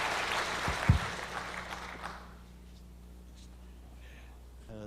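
A church congregation applauds in congratulation, a soft wash of clapping under a brief voice that dies away after about two seconds, leaving a quiet hall.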